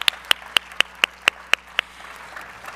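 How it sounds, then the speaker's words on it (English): About eight even, crisp claps arrive in a steady rhythm from a small audience thanking a conference panel, fairly quiet and close, then trail off into room murmur. "let's please give them a round of applause for sharing their knowledge with us and time today"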